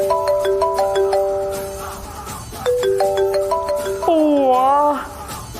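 A mobile phone ringtone for an incoming call, playing a bright repeating melodic jingle in two phrases, fairly loud and close, with a voice speaking over the last part.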